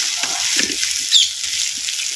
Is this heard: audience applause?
no